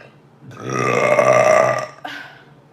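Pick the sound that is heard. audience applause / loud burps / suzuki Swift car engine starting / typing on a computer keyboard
loud burps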